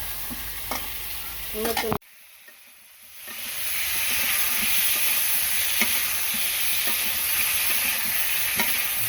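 Food is stirred and sautéed in a pan with a steady, loud sizzle and occasional spatula scrapes, after a brief quiet gap; a single word is spoken near the start.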